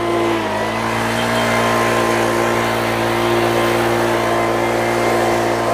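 Leaf blower clearing debris beside a koi pond, a steady, loud motor drone with a constant whine that holds nearly unchanged throughout, close by with no talking.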